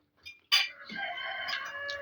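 A rooster crows once, close and clear, its call rising and then holding a drawn-out note after a short faint sound.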